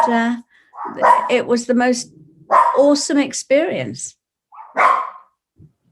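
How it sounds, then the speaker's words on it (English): Dogs bark in the background during a spoken account, with a few short yips and bow-wows mixed in under steady talking at moderate distance. "you can hear the dogs in the background"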